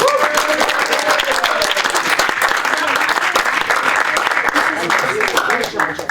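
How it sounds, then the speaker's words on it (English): An audience at a demo-center gift-guide presentation applauds its presenters, loud dense clapping with some crowd noise and a voice heard over it throughout. "One more round of applause for our presenters."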